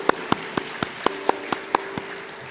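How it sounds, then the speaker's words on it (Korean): Single sharp claps land in an even rhythm, about nine in quick succession, close and distinct, as a church congregation claps in worship over a faint sustained tone. "우리 하나님께 감사와 영광의 박수를 드리겠습니다"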